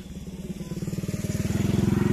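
A motorcycle engine on a foggy village road in the early morning, its pulsing putter growing louder and closer as it rides past.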